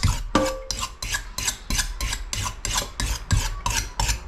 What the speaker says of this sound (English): So I use this stone for sharpening my knives.